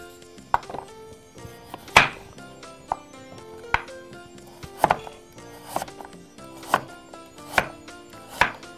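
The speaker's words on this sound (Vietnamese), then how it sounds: "Bây giờ tôi sẽ cắt cà rốt." A knife chops carrot into small dice on a cutting board for a mushroom rice porridge. About ten sharp, evenly spaced chops land close and clear, with no talk over them.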